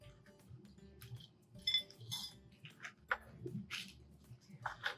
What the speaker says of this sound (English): taking a cup of white chocolate chips and pouring them into a microwave-safe bowl